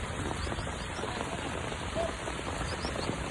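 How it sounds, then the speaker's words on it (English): Heavy nonstop rain in Bangladesh pattering steadily on surfaces close by, a continuous dense hiss of drops with no talk over it. "the way it's raining it don't seem like it's gonna hold non-stop"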